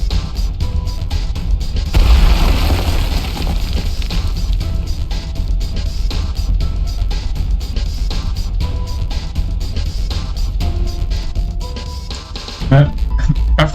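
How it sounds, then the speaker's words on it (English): A bazooka fired in the Snowbreak video game sets off a long, dense, rumbling explosion that fills the whole stretch, with a fresh heavy burst near the end and some voiced chatter mixed underneath. "pulling out a fully loaded bazooka. Set up, aim, and fire."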